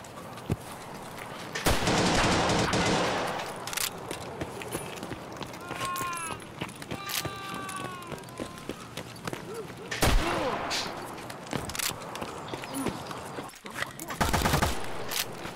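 Gunfire from the Escape From Tarkov video game: several loud, sharp bursts of shots spread across the stretch, mixed with game ambience and metallic pings, while people talk over it.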